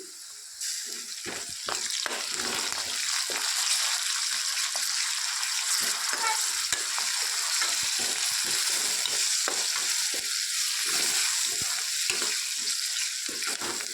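Ginger sizzles in a hot pan, frying alongside other ingredients, while a spoon scrapes and stirs in a quick irregular rhythm over a loud, steady fry close by, with no talking.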